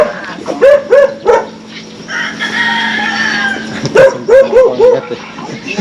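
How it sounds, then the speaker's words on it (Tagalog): A dog barks in short, repeated bursts outdoors, mixed with crowing roosters and other background noise. "Papakawalan niya yung aso, baka makapangagat."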